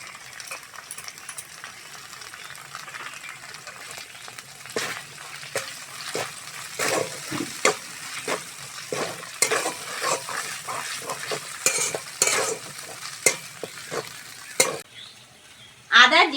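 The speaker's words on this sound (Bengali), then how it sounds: "এবার আদা আর জিরে বাটাটা দিয়ে দেবো।" A ginger and cumin paste fries with poppy seeds in a pan, giving a soft steady sizzle under frequent scraping and stirring knocks from a utensil against the pan, close by, with no speech.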